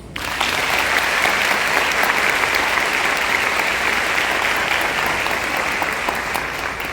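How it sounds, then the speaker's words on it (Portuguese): An audience at a forensic psychology lecture breaks into applause, dense steady clapping that starts abruptly and carries evenly at full strength to the end. "uma salva de palmas"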